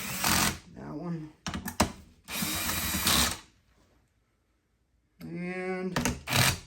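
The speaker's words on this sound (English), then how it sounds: "from there I can tighten each one and torque them down to whatever specs they need" A power tool tightens bolts on a differential in several loud, short whirring bursts with brief pauses and a longer silent gap, while a voice talks between runs.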